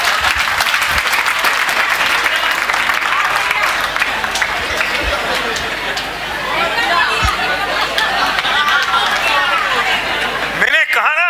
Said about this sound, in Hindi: भैया सबने ताली बजाई अमन के चक्कर में